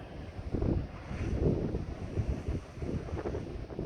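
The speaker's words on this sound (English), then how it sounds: "It's blowing a 5 to 7 southwesterly." A strong southwesterly wind, force 5 to 7, blows across a rocky shore mark at night and buffets the microphone in loud, gusting rumbles, with the sea faintly audible beneath.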